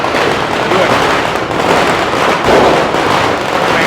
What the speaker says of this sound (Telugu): మా బాలమనికి ఒక బాంబు ఇద్దాం కింద కొట్టే బాంబు ఇస్తా పెద్ద పెద్ద